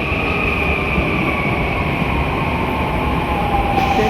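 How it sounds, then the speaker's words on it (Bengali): A Mumbai metro train pulls into a station with a loud, sustained rumble and a steady high-pitched whine from the motors, heard up close. "ফাইনালি ট্রেন আমাদের ঢুকে গেছে"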